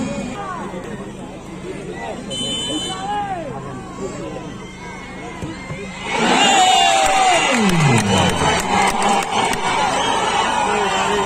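Spectators at a futsal final during a penalty shootout: a noisy crowd of shouting children and adults babbles, then bursts into louder, sustained cheering and yelling partway through, close and dense.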